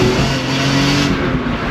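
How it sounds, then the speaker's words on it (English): A BMW E46 M3 accelerates hard with its wheels spinning, the engine roaring loud and close in a steady, sustained rush for the whole stretch, with no voices. "Bit of wheel spin there"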